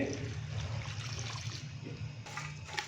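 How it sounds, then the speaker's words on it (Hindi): A glass of water is poured into a cooking pot of beef karahi spiced with turmeric and chili flakes, a faint, steady watery rush over a low background hum, ending with a few soft clinks. "1 गिलास हम इसके अंदर पानी डालेंगे"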